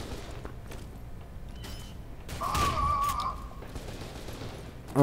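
In the video game FEAR 2, a frag grenade is thrown during a firefight, with a burst of gunfire, a metallic creak and a whistling mechanical tone over a low, muffled rumble. The battle noise stays moderately loud throughout.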